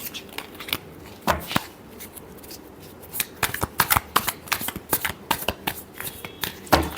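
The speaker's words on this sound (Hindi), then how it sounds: "Last shuffle." Tarot cards are shuffled by hand in a last shuffle, with crisp riffling bursts and flicks that come irregularly and grow busier toward the end, close up and without talk.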